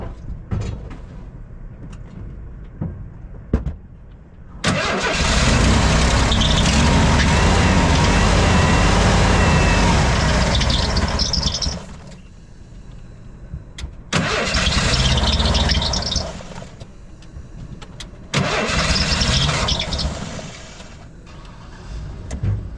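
A 1990 Ford van with a suspected bad fuel pump cranks in three long, loud bursts of starter whirring, separated by short pauses, without catching.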